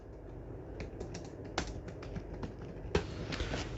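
Faint, irregular clicks of computer keyboard keys, with one or two sharper taps, sit under a steady hiss of background noise while text is entered for an income tax return.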